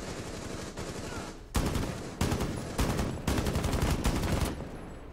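Rapid automatic gunfire from the video game Rainbow Six Siege, several loud sustained bursts of machine-gun fire separated by brief pauses, preceded by lower, steadier shooting.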